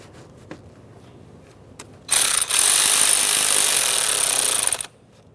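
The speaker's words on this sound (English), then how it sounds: "and snug that clamp" Hose clamp being snugged down on the air intake tube of a 2007-2017 Jeep Patriot 2.4L, heard as a loud, steady whirring power-tool burst of about three seconds after a few faint clicks.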